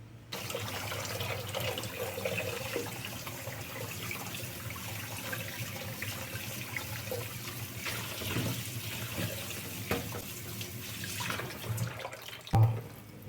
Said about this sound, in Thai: จากนั้นก็นี่ครับเราจะนำมาน็อกน้ำนะครับ